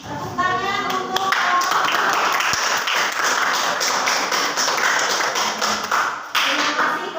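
A classroom audience claps for a student group that has just presented, a close, crisp patter of many hands with brief voices at the start and a short dip before the clapping resumes.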